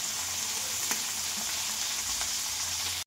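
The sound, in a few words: fish frying in oil in a pan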